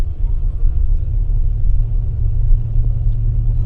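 Deep, steady low rumble of a bus engine pulling away on a rainy evening, heard from inside as a constant heavy drone without pauses, loud and close, no voices.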